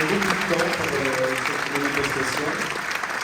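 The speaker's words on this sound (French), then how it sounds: "Moi, je vous propose de les applaudir" Applause for the jury at a media awards ceremony, a steady wash of clapping from an audience that carries on throughout, with a voice faintly heard over it.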